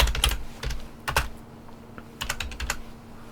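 Typing on a computer keyboard, heard as close clusters of quick key clicks in short bursts separated by brief pauses, with no voices.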